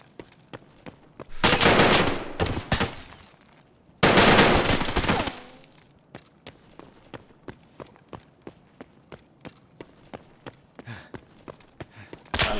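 Gunfire in the video game Escape from Tarkov: two long, loud sustained bursts of automatic fire, followed by a run of sharp, evenly spaced clicks or footsteps.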